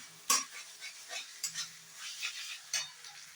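A spoon works through crumbly chhana (fresh cottage cheese) in a bowl as kochuri filling is mixed, giving soft scraping stirs and a few sharper clinks against the bowl, close and quiet with no talk.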